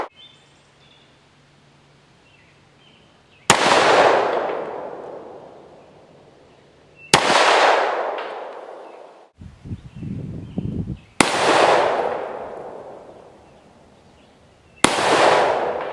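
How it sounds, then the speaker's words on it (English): Four loud, sharp 10mm pistol shots are fired at a grapefruit outdoors, spaced several seconds apart. Each crack is sudden and booming, followed by a long echoing decay, with some faint handling noise and quiet background in between. "Let's see how a grapefruit fares against a 10mm."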